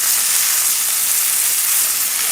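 Onions and tomato sizzling in a very hot pan while preparing Chilean sea bass provençale, a steady, loud frying hiss with no pauses.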